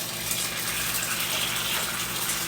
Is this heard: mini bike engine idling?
no